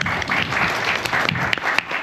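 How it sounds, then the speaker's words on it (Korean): Audience applause welcoming a lecturer at a corporate team-building session during HD Hyundai domestic training in Yeosu: a steady, dense burst of many hands clapping together from start to finish, fairly loud. "큰 박수로 모시겠습니다"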